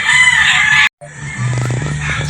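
A gamefowl rooster crows in a pen, a loud, close call that breaks off briefly and then resumes with harmonic clucking and crowing, and no voices are heard.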